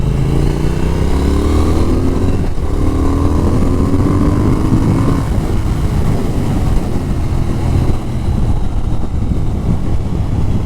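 A Triumph Speed Twin motorcycle rides along on a demo ride, its engine loud and close, with rising revs through the gears over steady wind rush.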